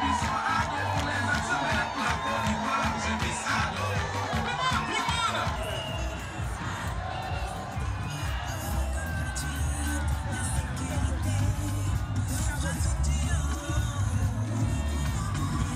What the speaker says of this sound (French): Le meeting a donc drainé une foule importante